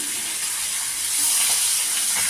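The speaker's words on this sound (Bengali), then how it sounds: "এইভাবে হালকা করে লাল লাল আমি ভেজে নিয়েছি" Pomfret fish fry in a pan of hot oil, sizzling in a dense, bright, continuous hiss close up that swells a little louder partway through.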